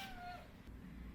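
A single drawn-out cat meow, fairly quiet, falling slightly in pitch and fading within half a second over low background hum.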